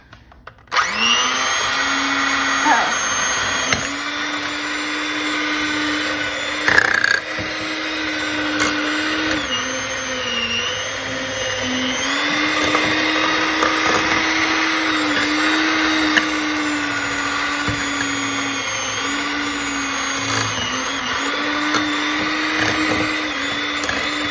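Electric mixer creaming a stick of butter with a quarter cup of sugar for raspberry thumbprint cookie dough, a loud steady motor whine running continuously with slight pitch wobble and occasional knocks against the bowl.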